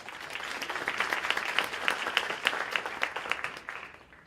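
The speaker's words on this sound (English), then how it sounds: "So can we give him another round of applause?" Audience applause at a lecture-series event: dense, steady clapping from many hands throughout, moderately loud, slowly fading toward the end with no talk over it.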